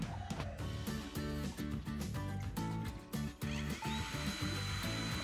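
A DeWalt cordless screwdriver whirs in repeated short bursts, motor pitch rising and falling as it drives screws, close and fairly loud with no one speaking.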